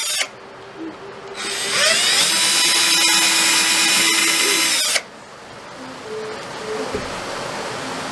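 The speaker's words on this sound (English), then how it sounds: "I'm going to take my drill and I'm just going to give myself a little mark on the neck board on each one of these holes." A power drill spins up for about four seconds to mark dowel holes on a guitar neck board, a loud high whine that stops abruptly, followed by quieter room noise.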